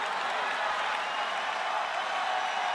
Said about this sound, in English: The crowd gets aroused by that